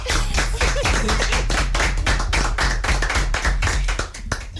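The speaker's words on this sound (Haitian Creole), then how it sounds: "On applaudit?" An audience claps together in steady, dense applause at a live show, sustained and close, fading slightly near the end.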